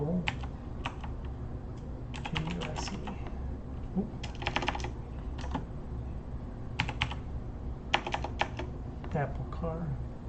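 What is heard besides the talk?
typing on a computer keyboard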